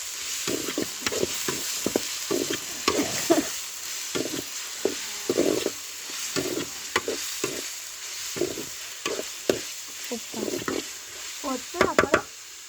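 Chicken frying in a pan, stirred with a utensil: the sizzle runs throughout, broken by regular scraping and knocking strokes that give it a steady rhythm.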